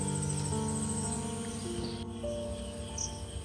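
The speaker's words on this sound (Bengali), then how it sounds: "আর এদিকে ঝিঁঝি পোকা ডাকতেছে।" Crickets chirp outdoors in a steady, dense, shrill chorus that continues without pause, with faint bird calls mixed in and no voices.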